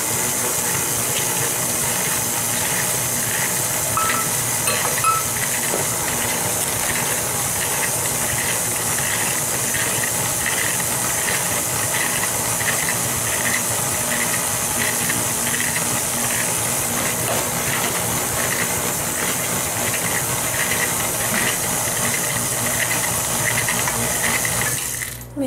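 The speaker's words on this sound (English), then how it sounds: "And my faithful old KitchenAid, I love my KitchenAid." A KitchenAid stand mixer beats butter and sugar in a steady, continuous whir with a faint rattling of the beater against the bowl, running close and unbroken until it stops at the end.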